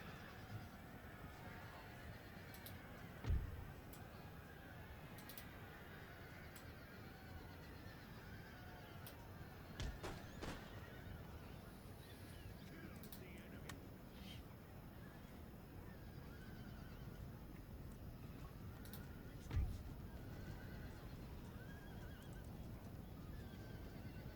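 Horses whinny and neigh on a battlefield in Empire: Total War, faint and distant against a low continuous battle ambience with scattered sharp cracks.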